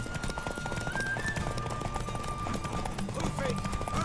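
Rapid, steady hoofbeats from a galloping horse racing in The Witcher 3 carry through the whole stretch, close and prominent, with a faint tonal music line above.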